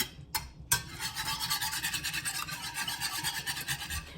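Eggs are whisked in a bowl, a quick, steady rhythmic scraping and tapping of the whisk, close but fairly quiet, with no talking.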